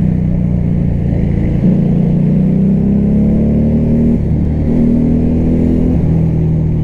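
A CMC Buccaneer motorcycle engine runs loud and close in a steady throbbing drone, its pitch rising slightly in a couple of gentle revs, with no talking.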